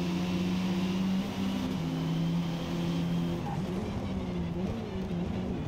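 A B-class race car in the Forza Motorsport racing game holds a loud, steady engine drone, with a brief dip in pitch partway through as it shifts gears. No one speaks.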